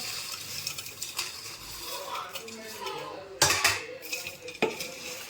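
Biryani ingredients stirred with fried onions and lemon juice in a metal pot at home, soft scraping of the spoon with a few sharp clanks against the pot, quiet and close.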